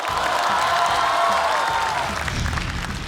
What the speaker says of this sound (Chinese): 掌声有请宋万博。